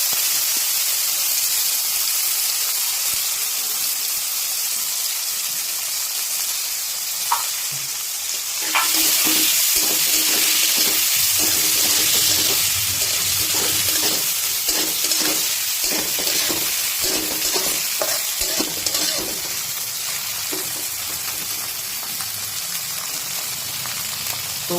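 Prawns fry in hot oil in a pan over a low gas flame, a loud, steady sizzle throughout that grows busier midway with crackling and light scraping as they are stirred.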